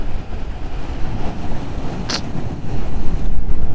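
Sea waves and wind at the beach make a loud, constant low roar and rumble that swells and settles, with one sharp brief crack partway through.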